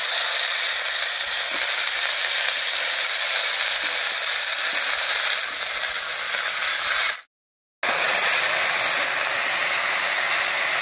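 Cut potatoes and dheki greens hit hot mustard oil tempered with whole cumin and bay leaves, giving a loud, dense, hissing sizzle that runs on steadily, broken by a brief total silence partway through, with no speech.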